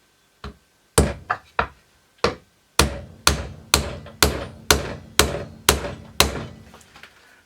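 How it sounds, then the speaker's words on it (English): A 3-inch nail is hammered through stacked pallet wood: a few scattered opening blows, then a steady run of about nine loud, close, ringing strikes at an even rhythm, with no talk. "I simply whack the 3-inch nail through the 4 bits of wood"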